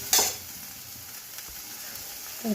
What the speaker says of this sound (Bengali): এই তেলেই ভাজা হবে